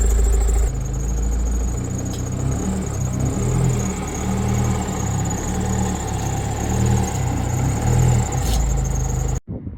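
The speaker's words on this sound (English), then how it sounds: "minus the squeal, the car actually sounds a lot better now" A BMW N47 diesel engine idles after a service, a loud steady rumble with a rhythmic knocking pulse and a high thin squeal riding above it, cutting off abruptly at the end.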